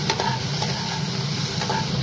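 Green chillies and nigella seeds frying in a little oil in a kadai, giving a steady, close, continuous sizzle and hiss throughout.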